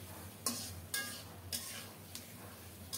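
Shrimp that were fried earlier go into a pan of cooked-down spiced masala for a prawn malai curry, giving several short sharp clatters and splashes at a steady pace over a soft sizzle, close by and without talk.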